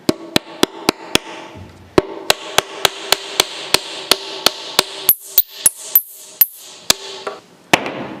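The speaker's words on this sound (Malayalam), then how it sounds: "അപ്പോൾ നമ്മൾ ഓരോ സ്റ്റിക്കായിട്ട് എടുത്തിട്ട് നേരെ നമ്മളിത് അടിച്ചുള്ളിലേക്ക് കയറ്റാണ്." Sharpened bamboo sticks are hammered one by one into holes in a bamboo tube for a rainstick, giving a long run of sharp, close, evenly spaced knocks that speed up and break into brief ringing taps near the end, with no talking.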